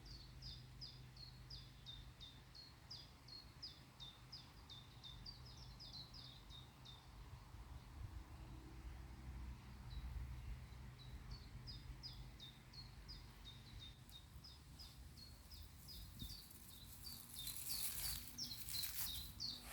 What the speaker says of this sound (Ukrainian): Ташки гарно співають, думаю, чутно буде